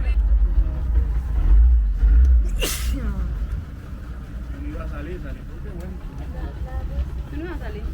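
Small tourist boat outboard engine on a ride from Taganga, Colombia, a loud low droning motor with wind buffeting up close, which eases back as a person talks over it.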